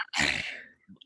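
A single sharp sneeze bursts out close and loud, then fades into a brief breath and faint murmur afterward.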